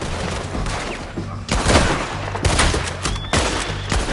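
Gunfire in a Red Dead Redemption 2 shootout: loud, close rifle and pistol shots in irregular bursts, several cracks and booms overlapping a steady background rumble.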